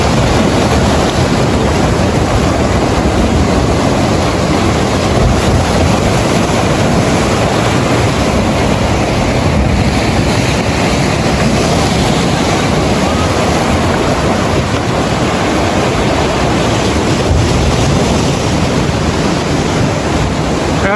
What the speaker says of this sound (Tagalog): ang lakas ng alon sa umaga.